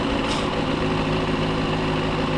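A 2023 Benelli TNT600i motorcycle engine idles steadily and close by, a continuous dense rumble with no talking over it.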